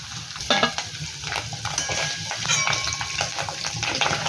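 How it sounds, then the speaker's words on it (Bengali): Paneer cubes fry in hot oil in a pan, giving a steady, close sizzle broken by bursts of stirring and scraping throughout. "এবার এর মধ্যে পনিরগুলোকে দিয়ে লাল লাল করে ভেজে নেব"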